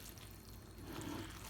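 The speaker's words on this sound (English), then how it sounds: "I'm going to add a little" Water pours steadily into a pot of cooking jollof rice, a soft continuous splashing that grows a little fuller toward the end.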